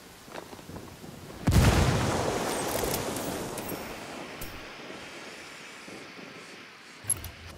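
A grenade detonates in a first-person shooter match: a sudden loud boom at about 1.5 seconds, then a long rumbling decay that fades over several seconds, with a smaller sharp report near the end.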